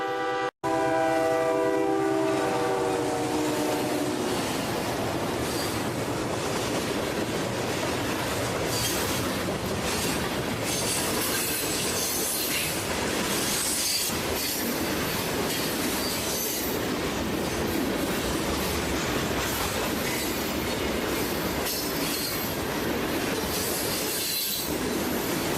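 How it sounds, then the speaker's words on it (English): A pair of GP35 diesel locomotives on the Milwaukee Southern Railway Lines rumble past close by, loud and continuous, with a horn blast at the start, wheel squeal and clickety-clack over the rails throughout. "The locomotives you're hearing is the pair of GP35s, and the Milwaukee Southern Railway Lines still have it in their roster."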